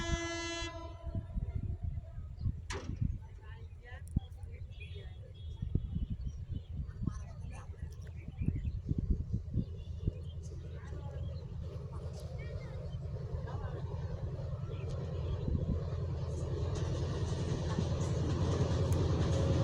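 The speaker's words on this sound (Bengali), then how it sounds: "এই মুহূর্তে ট্রেনটি চলে আসতেছে, আপনারা দেখতে থাকুন কত স্পিডে যায় ট্রেনটি" A train rumbles past with rapid rhythmic clatter and a brief horn blast near the start, the roar building steadily louder toward the end.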